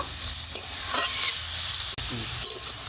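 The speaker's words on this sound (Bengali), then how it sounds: "সব কিছু খুব ভালো করে মিশিয়ে নেব।" Chicken patty filling being mixed in a pan, a steady sizzle running throughout with a few scraping stirs of a spoon close by and no talking.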